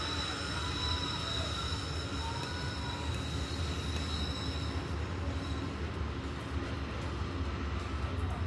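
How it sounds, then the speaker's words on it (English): A train rolls past near a baseball field during a high school game, a steady loud rumble with faint wheel squeal throughout, nothing else standing out. "That is a train you hear."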